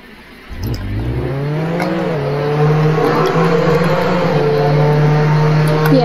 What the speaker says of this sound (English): I'm spawning a jeep.